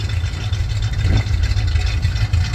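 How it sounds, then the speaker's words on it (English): A 1967 Chevy C10 truck engine runs with a steady, low rumbling idle, close and continuous, with no voices. "Truck does have a nice sound to it."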